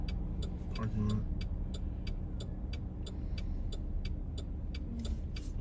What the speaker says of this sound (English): I'm gonna take off the turn signal. That's annoying.